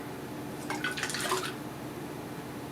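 Caboose Brewing Hobo Imperial Stout with vanilla bean pouring into a glass, a brief soft splashing stream lasting under a second over quiet background hiss.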